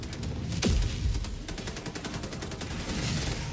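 Video game gunfire during a fight against a convoy, rapid bursts of shots in quick succession with a heavier boom near the start, fairly faint and steady under a noisy background.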